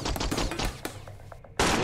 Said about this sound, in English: this was not a normal shotgun, this was a Benelli for sure